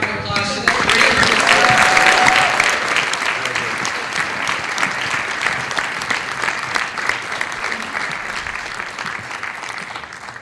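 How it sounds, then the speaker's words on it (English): Sustained audience applause at a 2015 IB graduation ceremony, a dense wash of many hands clapping that swells loudly at the start and then holds steady for the full length, with a brief voice near the beginning. "Let's give another round of applause to the great."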